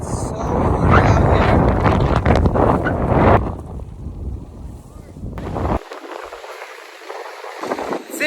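Strong wind buffets the microphone outdoors on a sunny day, loud, broadband rumble and gusts that ease off midway and then pick up again.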